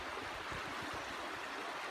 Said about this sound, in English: Sitting here by the river.